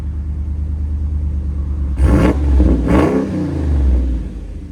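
A RAM 6.4L HEMI V8 revving through a loud aftermarket exhaust, two quick throttle blips with a rasp at the end, rising over a steady rumbling idle close by.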